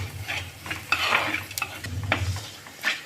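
Onions and turmeric powder are stirred in a frying pan for kingfish mappas, a soft sizzle beneath repeated scraping strokes of a spoon against the pan, close and steady, no speech.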